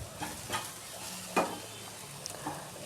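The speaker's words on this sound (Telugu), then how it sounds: "కారం వేసుకొని మొత్తం కలుపుకుంటున్నాను" Chili powder is stirred into a frying egg curry masala in a pan, giving soft scraping strokes with a faint sizzle underneath and one sharper scrape near the middle, close and fairly quiet.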